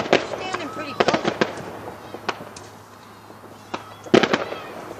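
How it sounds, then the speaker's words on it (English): Fireworks burst close by outdoors, a string of sharp crackling pops and louder booms scattered irregularly over several seconds, with voices of onlookers nearby. "fireworks. Just gotta record this one."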